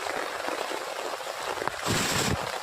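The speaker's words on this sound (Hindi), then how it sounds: "देखिए बहुत तेज़ बारिश हो रहा है" Heavy rain pouring down in Bihar, a constant close hiss of drops that swells louder near the end, with no voices over it.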